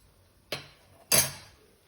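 Vegetables dropped into a pan of lightly roasted spices for pickle, giving two sharp clattering hits about half a second apart, the second louder with a brief sizzling tail, otherwise quiet.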